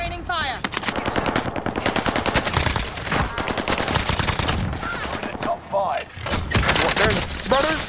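Dense, rapid automatic gunfire from an AK47-style rifle in a combat shooter video game rattles almost continuously, loud and close, with brief pauses between bursts and a voice talking over it.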